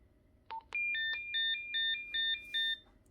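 A short man-down emergency alert from a MotoTRBO two-way radio: a couple of quick blips, then a series of evenly spaced two-tone beeps, clear against a quiet background.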